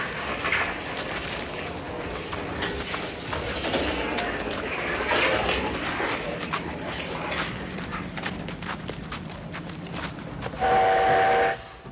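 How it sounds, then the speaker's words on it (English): A Chinese-built steam locomotive working a rail line through the Tian Shan mountains, a continuous rumble of rolling wheels and rattling wagons with steady hiss, then a loud sustained horn blast near the end. "Here's a steam locomotive of a kind that's popular among railway buffs everywhere, and which has been built in China since the 50s."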